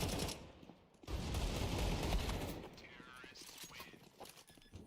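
Rapid pistol gunfire in a competitive esports video game match, a dense burst of sharp crackling shots packed together for over a second, then sparser clicks and game sounds, with commentator voices running underneath.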